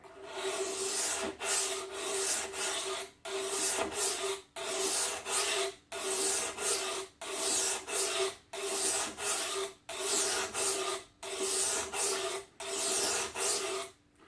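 A knife blade is drawn along a sharpening stone in repeated strokes, a steady rhythm of about ten gritty rasping swipes separated by short pauses. The sound is close and fairly quiet, with no talking.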